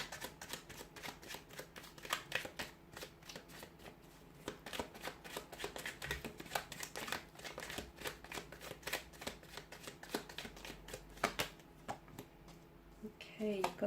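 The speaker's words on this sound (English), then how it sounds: "so we'll give the card a shuffle." Tarot and oracle cards are riffled and shuffled by hand in rapid, crisp bursts of papery flicks and taps. The sound is close and fairly quiet, with a brief rustle near the end.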